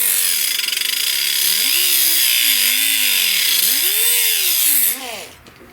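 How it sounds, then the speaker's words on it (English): An angle grinder works down a MIG weld on a steel patch panel for a 1969 C10 front fender, a loud sustained high whine that rises and falls in pitch with the load, then spins down near the end. "So I'm gonna grind off just a little bit right here"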